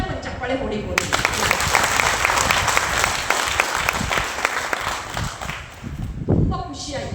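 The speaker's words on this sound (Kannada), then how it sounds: "ಎಲ್ಲ ರೊಟೇರಿಯನ್ಸ್ಗೂ ನಮ್ಮನ್ನು ಸೇರಿಸ್ಕೊಂಡ ಒಂದು ಚಪ್ಪಾಳೆ ಹೊಡಿಬೋದು" Sustained applause from the audience at a Rotary Magadi Central office-bearers' installation ceremony, dense steady clapping filling the room for several seconds, tapering slightly near the end.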